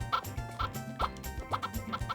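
Chickens in the Harvest Moon 64 farming game give a run of repeated, evenly spaced clucking calls, clear and synthetic-sounding, with no talk over them.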